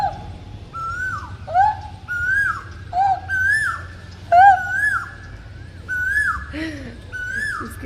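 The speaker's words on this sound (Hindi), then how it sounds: "इस कोयल की आवाज़ इतनी अच्छी लगती है।" Asian koel singing nearby, loud repeated rising whistled calls at a steady pace with soft background hum.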